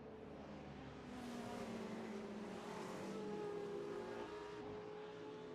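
Race cars in Assetto Corsa warm their tyres at Sebring, a steady layered engine drone with rising and falling pitches as several cars run together at moderate distance, no talk.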